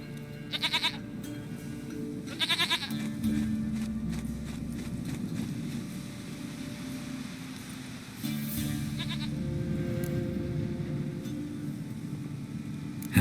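A goat in The Witcher 3 video game lets out several short, sharp bleats spaced far apart, near and clear, over a low rumble and light hoof clopping.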